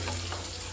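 Jackfruit seed payasam simmers gently in a pan on a slow flame, making a soft, continuous bubbling sizzle, faint and close, with a low steady hum underneath.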